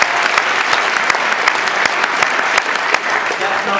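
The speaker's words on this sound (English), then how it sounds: "Round of applause for everybody who's here today." Loud, steady applause from a live event audience, sustained clapping that fills the space without pause for several seconds.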